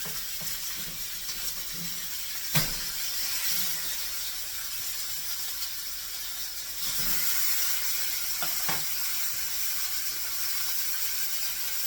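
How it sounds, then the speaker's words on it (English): Thawed pork chops searing in a frying pan, a steady broadband sizzle and hiss running throughout with a few sharp pops and crackles, close and moderately loud with no talking. "we're going to get them on in the pan here. And we're going to just get them seared on both sides"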